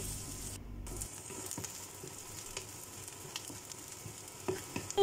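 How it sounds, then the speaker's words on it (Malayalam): Chopped onion pieces sauté in oil in a frying pan for beef keema, a soft steady sizzle with light stirring taps, faint and close. "ചെറിയ പീസാക്കിയിട്ട് കട്ട് ചെയ്തിട്ട് അതും കൂടെ ഇട്ടിട്ട് നന്നായിട്ട് വഴറ്റി കൊടുക്കുക."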